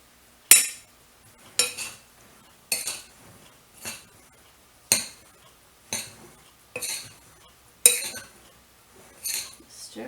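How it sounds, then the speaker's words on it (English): A metal spoon repeatedly knocks and scrapes in a pot as rice is stirred into a stuffed cabbage roll filling, about ten distinct clinks spaced at a steady rhythm, with no talking. "Stir that all together."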